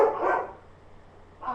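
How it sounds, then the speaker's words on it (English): A dog barks at cats: two short, clear barks a moment apart, moderately near, with quiet between them. "He's barking at cats."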